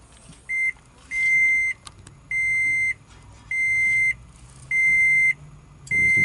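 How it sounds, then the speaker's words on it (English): Seatbelt warning inside a 2012 Toyota Prius Plug-in: a steady series of loud, even electronic beeps in a regular on-off rhythm, each tone held about half a second. "It's beeping at me because I don't have my seatbelt on"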